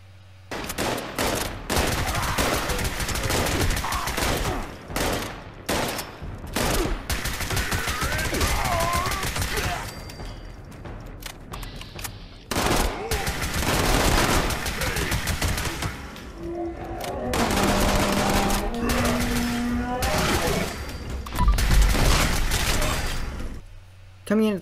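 Automatic rifle fire in the video game Fallout 76 rattles in long, loud, dense bursts with brief gaps, layered with game effects and a voice talking over it.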